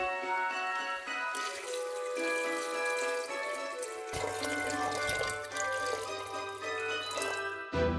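Water pours steadily into a cooking pot holding eel soup with tomato paste and bay leaf, a continuous close splashing stream lasting several seconds with no talk.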